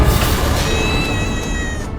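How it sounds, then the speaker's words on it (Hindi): A cat cries with a drawn-out, wavering meow, loud and close, heard alone over a low background rumble. "ये अचानक बिल्ली के रोने की आवाज क्यों आ रही है?"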